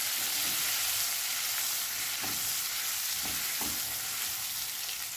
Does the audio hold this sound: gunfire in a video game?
no